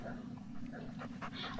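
A dog in the Blair Witch video game pants softly and gives faint whimpers, quiet and close, in short breathy pulses with no talking.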